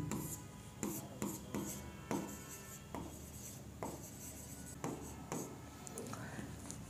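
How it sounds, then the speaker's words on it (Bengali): Pen writing on paper during an accounting lesson: soft, steady scratching strokes with regular sharper taps as words are formed, close and faint, with no talking. "এবার একটু কারণটা আমরা লিখে দিই।"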